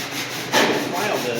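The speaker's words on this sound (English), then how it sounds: "So we're going to file this." A hand file scrapes across a metal car body panel during custom bodywork, one short close rasping stroke that swells briefly and then settles into steady scraping, with no talking.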